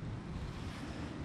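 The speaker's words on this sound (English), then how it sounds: "It's really windy today, so I do apologise if that's coming across in the video" Heavy low-frequency buffeting of wind hitting a microphone, constant and rumbling across the whole short stretch with no voices.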